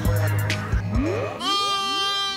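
Sheep bleat on a farm, a few loud wavering cries with harmonic tones, one overlapping another, near the listener and with no speech.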